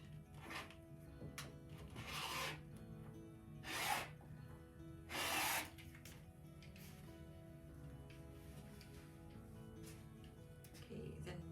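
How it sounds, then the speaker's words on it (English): A rotary cutter slices through a stack of fabric quilt panel layers in three short, soft rasping strokes against a faint background, with no talk. "And we're going to cut."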